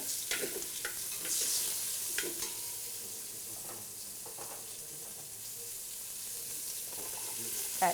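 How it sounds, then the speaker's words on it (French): Carrots and celery sautéing in a pan with browned juices left from lamb shanks, a soft steady sizzle with scattered stirring scrapes and clinks throughout. "on va garder cette même poêle avec ses sucs et on va faire colorer et revenir nos petits légumes"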